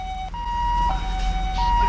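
A two-tone ambulance siren in the video game Arma 3 wails steadily, alternating between pitches, over a low rumbling background, fairly close and continuous.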